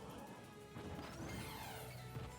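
A forward smash attack in a Super Smash Bros.-style platform fighter lands with a loud crash-like hit amid dense game effects and music, one impact swelling from the middle of the span.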